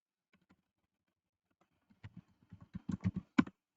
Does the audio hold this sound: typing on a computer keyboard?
yes